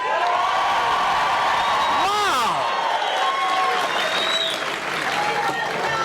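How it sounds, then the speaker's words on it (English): Loud, steady cheering and applause from a dense political rally crowd in Greenville, North Carolina, with whoops and shouts rising throughout and a voice sweeping briefly over the din. "But this crowd is tremendous."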